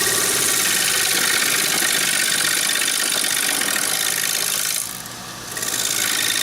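Wood lathe spinning at about 1,000 RPM while a bowl is turned from soft wood, giving a continuous close rasping, scraping hiss over a motor hum, briefly easing off near the end before resuming.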